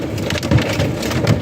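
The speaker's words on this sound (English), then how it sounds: "We just had this kind of hail come through." Hard hail, some stones bigger than a quarter, pounds down in a dense, loud clatter with sharper thuds among the roar.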